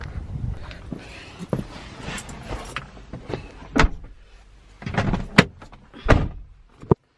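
Someone getting into a car, with a door handled and a power window running, the bumps and thuds spread unevenly across several seconds, fairly close and no talking.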